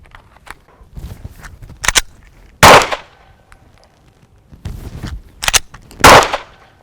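Several loud, close handgun shots fired after racking a pistol from an empty chamber, in two quick bursts separated by a pause, with softer handling clicks and movement between them.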